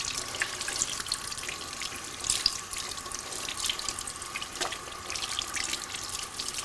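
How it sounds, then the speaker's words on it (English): Tap water runs steadily as hands are rinsed under a faucet at a sink, a continuous moderate splashing hiss with small uneven bursts, close by and with no talking. "Now let's rinse your hands off."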